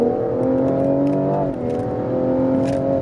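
A tuned 2018 BMW M240i engine revs hard and steadily under acceleration, a loud sustained whine that dips briefly midway before climbing again.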